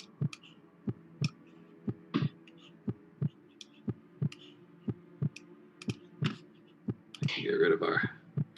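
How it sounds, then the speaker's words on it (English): Steady heartbeat sound effect pulsing at a slow even rhythm through a tabletop game session, soft thuds repeating under faint murmured talk, with a brief louder voice near the end. "can get rid of our heartbeat sound"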